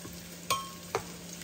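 A soft, steady sizzle of onion frying in a pan, with a couple of clinks from a utensil stirring.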